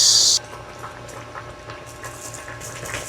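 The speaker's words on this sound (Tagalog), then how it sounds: "Kumukulo siya na low fire." A pot of creamy chicken curry boils gently on low heat with a soft, steady bubbling simmer that stays fairly quiet after a brief burst of noise at the start.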